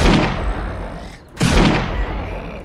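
An MG4 machine gun fires in the 7 Days to Die video game with loud, rapid, booming bursts, two sustained volleys split by a short pause.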